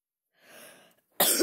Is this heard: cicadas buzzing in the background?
no